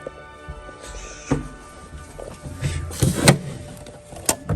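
A tripped circuit breaker switch in a household panel is pushed up, giving a few sharp plastic clicks and clunks amid quiet handling rustle.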